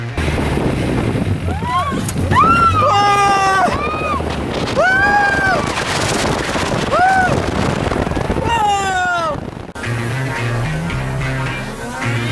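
A dune buggy rides over desert sand dunes in Huacachina, with loud rushing wind and engine roar throughout, punctuated by repeated rising and falling shrieks from riders.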